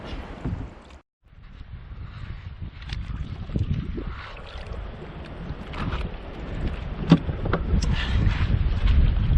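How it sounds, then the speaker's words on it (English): Wind buffets a microphone aboard a kayak at sea during a spearfishing and free-diving trip, giving a loud, steady rumble with gusty swells and a brief dropout near the start, and no voices. "Bit of wind there now"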